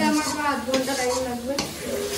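Pressure-cooked mutton and potatoes stirred in a hot kadai, a close steady sizzle broken by a few scraping strokes of the spoon, fairly loud and brief, with no talking.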